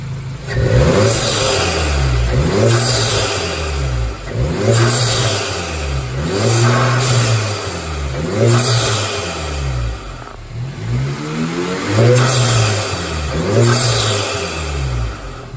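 A warm Volkswagen MK7 GTI engine with an aftermarket intake and turbo inlet revs up repeatedly, each rise in pitch falling back to idle, loud and close, with no talking.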